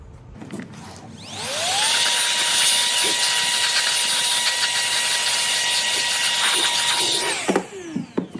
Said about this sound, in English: I'm gonna take the opportunity and just blow some dust out. A cordless duster, one of the most convenient things you can have in any shop.